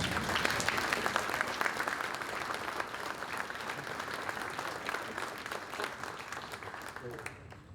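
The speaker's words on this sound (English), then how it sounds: "Can we give him another round of applause?" A dinner crowd at a society banquet gives a sustained round of applause. The dense, even clapping continues throughout and fades slightly toward the end.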